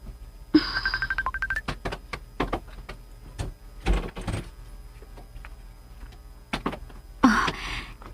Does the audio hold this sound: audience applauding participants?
no